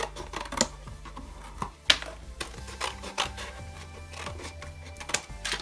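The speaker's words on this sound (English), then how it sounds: "It's got these flaps on it, so I'm just going to cut them off" Knife or scissors cutting the flaps off a cardboard box, scattered close scraping, rubbing and crinkling sounds in an irregular rhythm, fairly quiet, with no voices.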